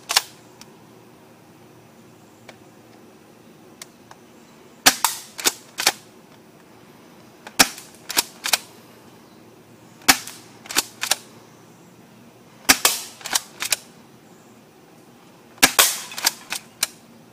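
A UTG M3L triple-barrel airsoft shotgun fires at cans outdoors, giving sharp snapping shots in clusters of two to four with racking clacks between them and quiet pauses, near and loud.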